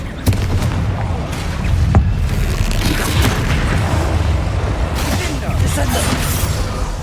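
Booming Confringo blast spells in Hogwarts Legacy burst in sharp hits amid a steady, dense rumble of combat noise, with a voice talking over them.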